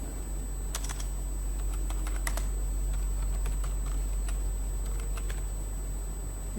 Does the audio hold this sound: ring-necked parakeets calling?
no